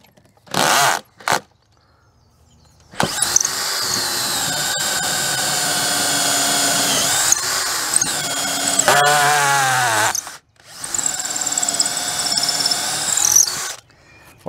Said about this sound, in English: The smaller the holes, the easier they are to drill.